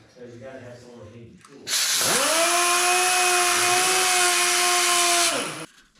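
A piston ring for an LS engine is gapped on a powered ring filer, giving a loud, sustained high whine with steady grinding that starts abruptly and stops after about three and a half seconds, following a brief stretch of speech.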